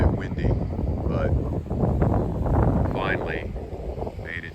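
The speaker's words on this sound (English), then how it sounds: "it's a little bit windy" Wind gusting outdoors in the parking area of a dead mall in Reidsville, North Carolina, a steady broadband rush buffeting the microphone throughout, with brief higher whistling tones over it.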